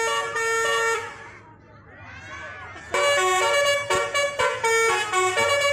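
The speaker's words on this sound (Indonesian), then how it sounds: "bus tersebut mulai memainkan klakson telolet-nya" A loud multi-tone telolet bus horn plays a bright, tooting melody in short bursts at a bus garage in Indonesia, pausing briefly before resuming, with crowd noise faintly underneath.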